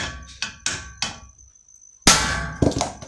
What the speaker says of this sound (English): Get your impact screwdriver in there, turn it counterclockwise